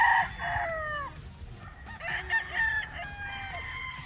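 A straight-breed gamefowl stag crows at a show booth, two drawn-out cock-a-doodle-doo calls near and clear, with faint clucking and crowd murmur in the background.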